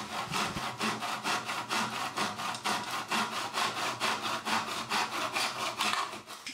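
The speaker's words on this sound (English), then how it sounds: "This time we're going to cut this at 90 degrees in the mitre block." A hand saw cuts UPVC glazing beading at 90 degrees in a mitre block, a close, steady rhythm of about a dozen rasping back-and-forth strokes with no talk.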